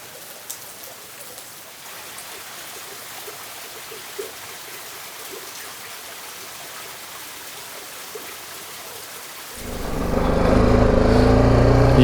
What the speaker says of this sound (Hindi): ये ऊपर से किसी जगह से पानी आ रहा है